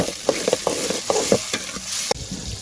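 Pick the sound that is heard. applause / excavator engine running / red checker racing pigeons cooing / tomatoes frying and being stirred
tomatoes frying and being stirred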